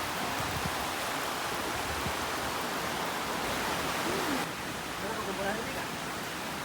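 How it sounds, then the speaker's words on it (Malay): A river rushes beside mountain lodging in misty Kundasang, Sabah, a steady broadband wash of flowing water heard at moderate level, with faint voices barely emerging underneath. "Ada sungai dia."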